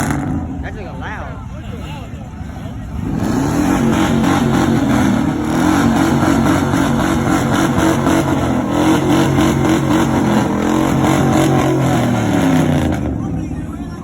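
Old car at a Myrtle Beach truck meet, a loud engine revving that starts suddenly and holds a rough, pulsing roar for about ten seconds before cutting off, with people talking and cheering around it.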